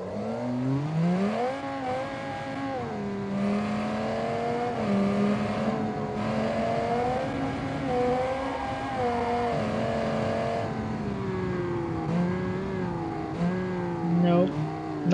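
An SUV's old-version V10 engine revs repeatedly, its pitch climbing and falling in long, smooth sweeps at moderate volume, with a voice talking faintly now and then.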